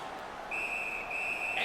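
A referee's whistle in the NHL 19 hockey video game blows a single sustained shrill blast after a save covers the puck, sounding over steady arena crowd noise.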